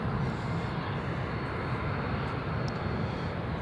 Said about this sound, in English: There's United Airlines moving, just taxiing down the runway.